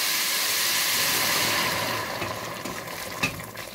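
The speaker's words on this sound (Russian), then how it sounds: "я сразу добавляю воду." Freshly boiled water from a kettle pours into a pot of stewed vegetables for cooking mussels, a close, steady hissing splash that thins out toward the end.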